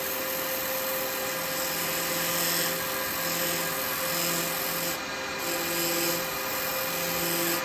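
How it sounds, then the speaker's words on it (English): A woodturning piece held on an arbor spins on a lathe while being sanded, giving a steady close whirring rub with a faint motor hum throughout. "the arbors are very good for holding these. Just to allow me to sand this."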